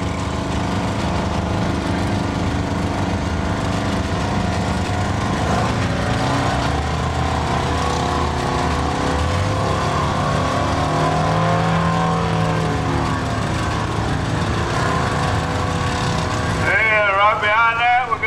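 A 1950 Oliver tractor fitted with a 453 diesel engine runs steadily and loudly at a tractor pull, its rumble rising and falling in pitch throughout, with an announcer talking over it.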